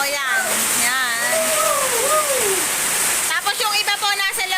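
Heavy rain pouring steadily outside a house where workers are plastering the interior, a dense continuous wash of water noise close by, with a voice talking over it throughout.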